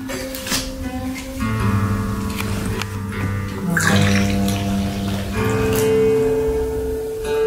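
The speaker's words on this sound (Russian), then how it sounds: "Прольем сейчас этот чайник." Water is poured over a light grey duan clay teapot with a very wide mouth, a continuous running trickle and splash that shifts in pitch as the stream moves, close and moderately loud, with no talking.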